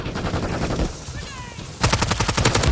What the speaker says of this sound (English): Why is he shooting at me, bro?